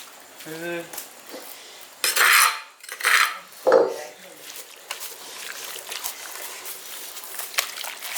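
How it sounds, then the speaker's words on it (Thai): Galangal, lemongrass, leaves and garlic are dropped into a pot of duck soup, giving a few loud clattering clunks and splashes against metal amid quieter kitchen clinks; someone talks briefly. "มีคา ตะไคร้แล้วก็ ใบบักกูดแล้วก็ กระเทียม นี่นะครับ ใส่ลงไปเลย"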